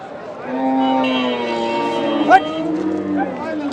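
A cow moos in a long, drawn-out low call, close by at a cattle market, with a sharp knock partway through and faint background voices.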